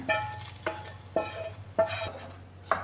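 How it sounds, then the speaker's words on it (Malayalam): Plantain erissery curry with its tempering is stirred in a pan: four or five distinct scraping strokes at a regular pace, close and clear over a soft sizzle, with no voices. "ഇനി ഇതെല്ലാം കൂടെ നന്നായിട്ടൊന്ന് മിക്സ് ചെയ്ത് കൊടുക്കാമേ"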